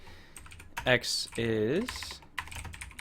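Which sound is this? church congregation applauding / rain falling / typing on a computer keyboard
typing on a computer keyboard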